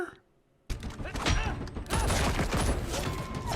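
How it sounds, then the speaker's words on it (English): Sidearm gunfire in a sci-fi TV action scene, a dense run of sharp shots and impacts that starts abruptly after a near-silent moment and keeps going loudly, mixed with rumbling effects and a few tonal electronic whines. "you can hear sidearm gunfire?"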